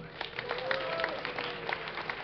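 Crowd at a StarCraft II tournament at DreamHack 2010 cheers and claps, a faint, steady wash of applause with scattered whoops, under a voice talking.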